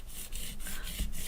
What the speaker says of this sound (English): And go ahead and squeegee this on.